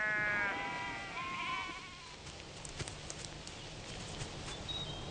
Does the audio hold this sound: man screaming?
no